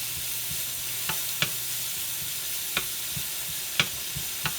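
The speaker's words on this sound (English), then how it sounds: "it's just taking its time while I let my shallots cook" Shallots sizzle gently in a pan over steady heat, a continuous fine frying hiss broken by a few sharp pops and crackles, close and moderately quiet, with no talking.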